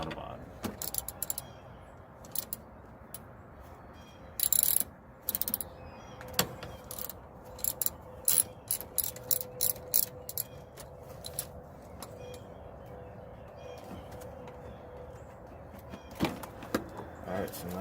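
A ratchet wrench loosening a car battery terminal under the hood of a Toyota or Scion, heard as scattered short clicking and ratcheting bursts with quiet gaps between them, close by.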